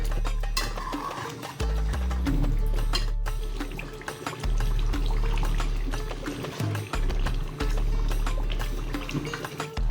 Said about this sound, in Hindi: पानी डालेंगे इसमें गरम।